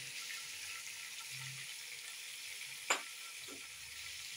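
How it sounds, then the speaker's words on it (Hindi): Onions tipped into hot oil for aloo gosht give a steady, quiet sizzle, with a short clink partway through and a brief stirring rustle near the end. "इसमें डालेंगे ये प्याज"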